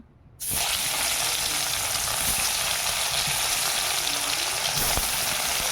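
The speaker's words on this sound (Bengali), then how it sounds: "সঙ্গে সঙ্গে নেড়ে দাও দিদিমণি" A spicy fish curry, made with fish caught from a paddy field, sizzles hard in a hot pan while it is being stirred. The frying starts abruptly and runs as a loud, steady hiss without pause.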